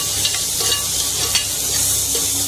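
Steady hissing sizzle of onions, garlic-ginger paste and spices frying in a hot pan for Punjabi chole, with occasional soft scrapes of stirring and no voices.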